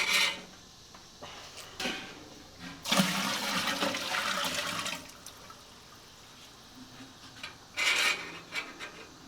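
Sparge water pours into homebrewing gear for a batch of beer, coming in several rushing, splashing bursts of varying length with quieter pauses between them.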